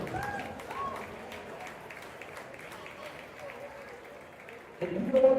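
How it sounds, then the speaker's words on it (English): An audience at a high school's 100-year celebration applauds, a soft, fairly distant patter of clapping that carries under a voice, before a louder burst of talk at the very end. "Let's give him a round of applause"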